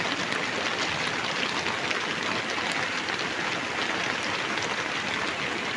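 Steady, dense rain falling over a village, a constant hiss of drops on surfaces that holds at an even level from start to finish with no voices.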